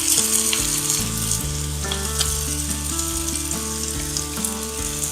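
A paneer thalipeeth fries on an iron griddle over medium heat with oil drizzled around the edges, giving a steady close crackling sizzle under music playing throughout.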